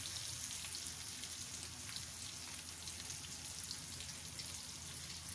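Cumin seeds dropped into hot oil for tawa qeema give a faint, steady sizzle with fine crackling throughout, no voices over it.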